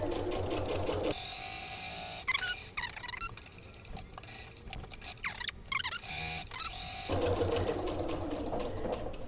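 Sewing machine stitching a reversible tote bag, bursts of rapid mechanical stitching that start and stop with short pauses and quick clicks between runs, close and clear with no talking.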